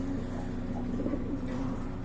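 Large Pakistani-bloodline pigeons cooing at a pigeon market, a low steady throaty burble close by, continuous and without talk.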